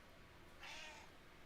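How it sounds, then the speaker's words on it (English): A cat meows once, faint and at some distance, in an otherwise quiet room with a steady low background hiss. "I don't know if you can hear the cat"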